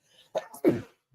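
A single sneeze indoors, a short sharp intake followed by a loud burst, close and alone.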